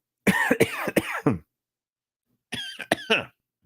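Two bursts of harsh coughing, each a quick cluster of three or four coughs, separated by about a second of silence.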